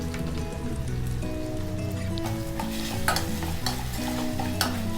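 Onions with salt frying in a pan for tomato sauce, being stirred: a continuous crackling sizzle with scraping spoon strokes against the pan, close and steady, no voices.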